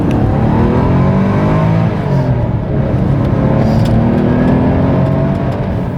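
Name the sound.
Porsche 911 flat-six engine revving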